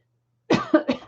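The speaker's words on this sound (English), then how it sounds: "See, now I'm going to cough in sympathy." Three or four short, dry coughs in quick succession after a moment of silence.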